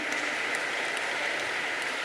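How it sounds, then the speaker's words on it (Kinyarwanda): A congregation at a women's church convention claps steadily for God, a dense even patter of many hands sustained throughout with no clear voices on top. "Reka dukomere Imana amashyi cyane."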